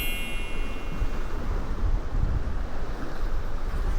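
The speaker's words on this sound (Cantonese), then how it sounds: "個船頭都打晒水" Sea waves slap and spray over the bow of a fishing boat off Miu Wan during rock fishing, a loud continuous rush of water mixed with heavy wind noise.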